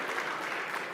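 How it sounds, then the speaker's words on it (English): Audience applause for Senator Jon Ossoff at a leadership luncheon in Georgia: steady, dense clapping throughout, moderately faint and without voices. "Round of applause for Senator Ossoff."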